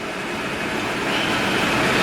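A diesel generator on a 2006 American Tradition 42R Class A diesel motorhome runs steadily, a dense broadband engine drone that swells slightly louder over the short span, with no voices.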